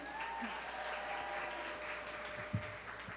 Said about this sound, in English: Clap it up again for our mayor, Mayor Wu.